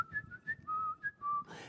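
A solo whistled melody for a film score, clear and close, carries a few held and gliding notes in a slow phrase, alone with no talk.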